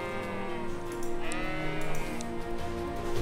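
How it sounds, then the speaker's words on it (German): Sheep bleat in the video game Kyn, several wavering calls over a steady layer of game music and ambience, moderately loud and without speech. "Und die Schafe. Die weiden so friedlich."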